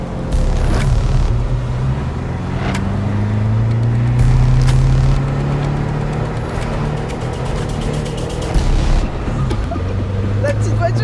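A small car drifts on ice in Québec with a loud, continuous engine drone that rises and falls as the revs swing, joined by thumps and bursts while people talk and shout over it.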